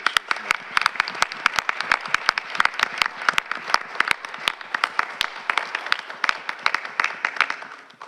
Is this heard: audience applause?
yes